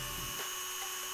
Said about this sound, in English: I use my Dremel multi-tool with a small drill bit.